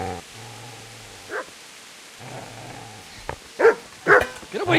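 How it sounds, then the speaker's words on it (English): A dog in the video game Kingdom Come Deliverance barks several times in quick succession near the end, loud and close, after a stretch of low droning background tones. "Get away, you mutt!"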